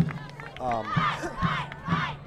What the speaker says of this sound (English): You can hear the cheering behind us here